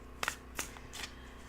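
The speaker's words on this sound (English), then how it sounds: "a few more shuffles" Tarot cards are shuffled in a few crisp riffling bursts, close and quiet, with no talking.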